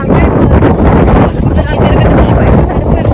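Strong wind ahead of rain at Vagamon buffeting the microphone with a loud, constant roar that barely lets up.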